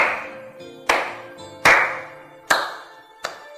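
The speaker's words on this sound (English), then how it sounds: "you must clap for her before you leave." Four loud, sharp hand claps ring out about a second apart, each followed by a short echoing decay, with no voices.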